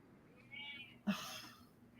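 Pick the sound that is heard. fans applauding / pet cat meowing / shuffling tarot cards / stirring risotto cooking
pet cat meowing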